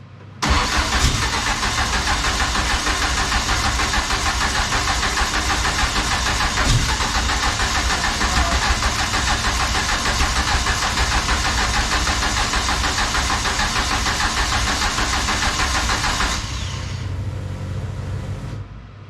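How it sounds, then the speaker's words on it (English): A car engine being cranked during preparations for its first drive, a long, loud, continuous churning drone that holds steady and then drops away near the end. "the moment you start cranking, it's just dropping off."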